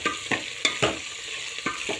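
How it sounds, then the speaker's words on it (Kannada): Chopped okra fries in a cooking pot for sambar while a spoon scrapes and stirs it in repeated strokes, roughly every quarter to half second, over a continuous soft sizzle, with no talking. "ಆ ಬೆಂಡೆಕಾಯಿನ ನಾವು ಪಾತ್ರೆ ಒಳಗಡೆ ಹಾಕಬೇಕಾಗುತ್ತೆ ಅದನ್ನು ಸ್ವಲ್ಪ ಫ್ರೈ ಮಾಡ್ಕೋಬೇಕಾಗುತ್ತೆ"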